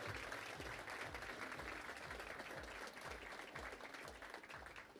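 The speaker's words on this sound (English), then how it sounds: "So please give the ROTC squad a round of applause for being here." An audience in a university esports space at a grand opening applauds the ROTC Rocket League squad, with steady, dense clapping that carries on evenly throughout.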